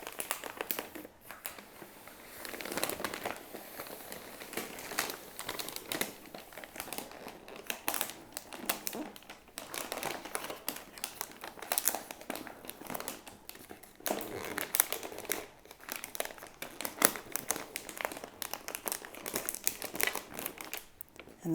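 Wrapping paper crinkles and crumples steadily as it is folded around a Christmas present, close and crisp with continuous rustling and small crackles throughout, no voices.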